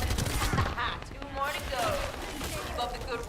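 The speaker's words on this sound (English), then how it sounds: "We're taking shots right now" Rapid gunfire rattles through a firefight in the sci-fi shooter The First Descendant, bursts overlapping near and far with voices talking over the shooting throughout.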